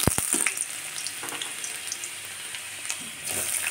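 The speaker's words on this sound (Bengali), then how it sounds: "তেলটা আমার গরম হয়ে গেছে, এতে আমি বেশ খানিকটা রসুন কুচি দিলাম" Chopped garlic sizzles in hot oil as a close, continuous hiss. A few sharp clatters open it and the frying swells again near the end.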